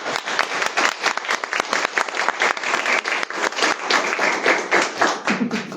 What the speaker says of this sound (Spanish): Les pido un fuerte aplauso para nuestras.